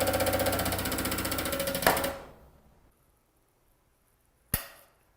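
A Dent Fix hole punch for an SPR riveter punches a clean 6.5 mm hole for a blind rivet, giving about two seconds of dense, loud mechanical grinding and clicking that ends in a sharp snap, then one more crisp metallic click after a pause.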